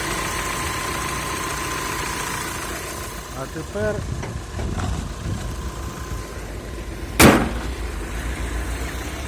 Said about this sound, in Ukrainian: Оце отак зараз як працює цей мотор